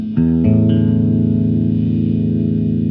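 A Dean ML prototype electric guitar with its coil split engaged rings out with a few picked notes that settle into one long, sustained chord, loud and close through effects, with no talking.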